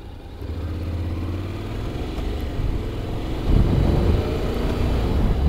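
A 2022 Honda X-ADV scooter is ridden without its travel pack: a steady mid-pitched engine drone rises at about the halfway point to a louder, rougher hum as it pulls ahead; there is no talking.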